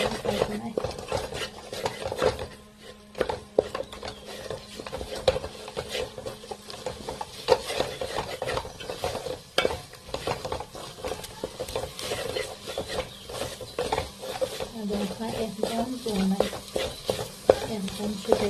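French beans dal frying in a pan is stirred steadily, a continuous close scraping and rasping over a light sizzle, with a voice speaking briefly in the background.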